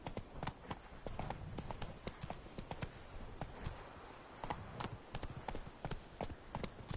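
Horse hooves clip-clopping in The Witcher 3: Blood and Wine, a steady rhythm of close, crisp hoof strikes continuing throughout with no talking.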